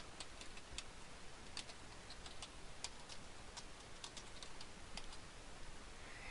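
A search query is typed on a computer keyboard, a quiet run of close, irregular keystroke clicks with short pauses between bursts.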